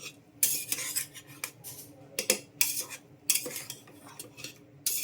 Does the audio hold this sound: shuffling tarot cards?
no